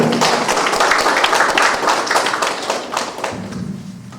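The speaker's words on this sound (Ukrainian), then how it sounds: "Будь ласка, ваші оплески" Audience applause at an awards ceremony for a "Narodny Zhym" bench press competition, a loud, dense burst of many hands clapping that gradually thins and fades.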